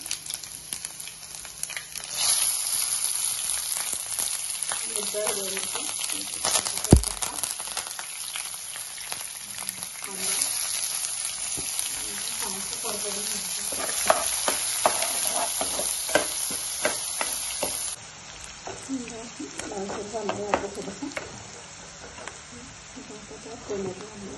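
Tempering in hot oil in a kadhai for varan, with garlic going in, gives a steady sizzle and frying crackle with scraping stirring strokes throughout, loud and close, easing slightly toward the end; a voice talks over it.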